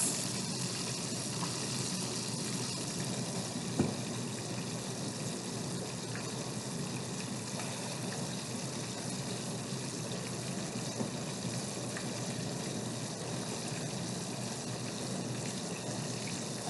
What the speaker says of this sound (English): Please be careful when deep frying at home.